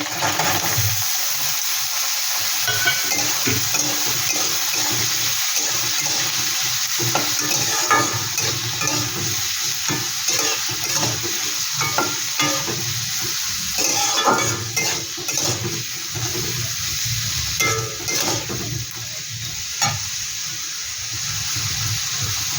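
Potatoes fry with onion, ginger and a little chopped garlic in a pan, giving a steady broad sizzle with scraping stir strokes and some watery clatter throughout, with no voices.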